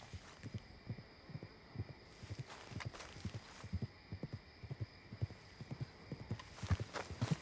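A called horse trotting toward the player in a video game, rhythmic clip-clop hoofbeats on ground, steady and moderately close, with a faint hum in the background.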